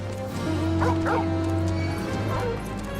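A dog-wolf mount in the video game Final Fantasy XIV gives a few short, yipping barks and a whimper, close and clear over a steady humming game background.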